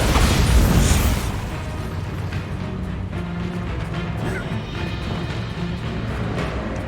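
A Confringo explosion spell from Hogwarts Legacy bursts loudly at the start, then gives way to a dense rumbling din of combat that lasts to the end.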